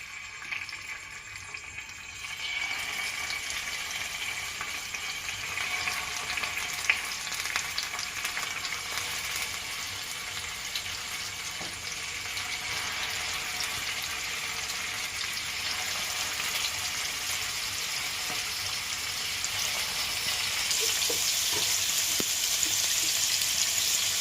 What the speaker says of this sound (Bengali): এরপর প্যানে একটু ফ্রাই করে নেব